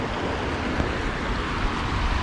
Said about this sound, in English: that water's moving